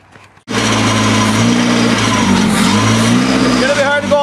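Small engine on a monster trike, running rough on choke with a poor carburetor, bursts into a loud, steady buzzing roar after a brief quiet start and keeps droning close by.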